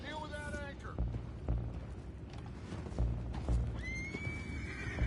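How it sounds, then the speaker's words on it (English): Horses whinny and neigh in the Red Dead Redemption 2 video game, with clip-clopping hooves, creaking mechanisms and a few dull thuds, while voices talk over the commotion. "Boys, go find out about those horses down below"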